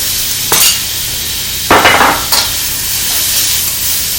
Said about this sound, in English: So right now I'm going to be adding my onions and peppers.